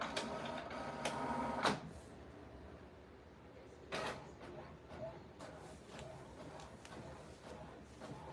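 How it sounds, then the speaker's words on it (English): Home printer running while printing decorations for DIY party plates, a quiet mechanical whir with a few sharp clunks and sliding feed noises spread through the clip. "working on some printing action"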